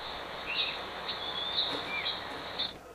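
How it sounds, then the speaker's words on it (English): Synthetic bird tweeting produced by an AI text-to-audio model, heard as a steady high chirping layer with several brighter tweet bursts over a soft background hiss, moderately loud and continuous for about three seconds. "you can get a sound that sounds something like this."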